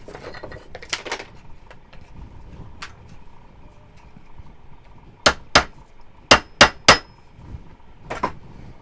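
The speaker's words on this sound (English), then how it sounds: "Now I can take and flatten this out with the hammer." Sharp metallic hammer strikes flattening a metal fork, a couple early, then a quick cluster of five loud blows and one more near the end.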